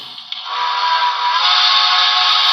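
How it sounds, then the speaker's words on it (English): A long, steady three-chime whistle from a Broadway Limited Imports PRR K4s streamlined model steam locomotive sounds continuously, bright and sustained, starting after a brief click and holding without a break. "Let's see, long whistle."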